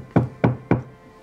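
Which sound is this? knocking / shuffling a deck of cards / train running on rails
knocking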